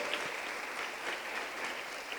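Church congregation clapping hands together during a service, steady dense applause from many people, moderately distant and without talk.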